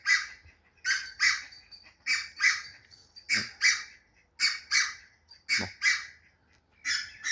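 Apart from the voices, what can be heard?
wild geese (bernaches) calling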